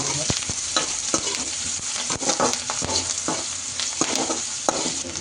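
Green chilies and salt frying in a pan while being stirred, with a steady loud sizzle and repeated sharp clicks and scrapes of the spoon against the pan throughout.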